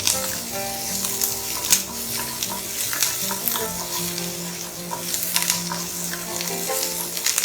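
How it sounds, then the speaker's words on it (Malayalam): Capsicum sizzling in hot oil in a kadai, with a steady crackling fry, stirring scrapes and light clinks of a utensil against the pan, close and fairly loud throughout. "ഫ്രൈ ചെയ്തെടുക്കാം. ഓവറായിട്ട് കുക്ക് ചെയ്യണ്ട, ഒന്ന് സോഫ്റ്റ് ആയി കിട്ടിയാൽ മതി."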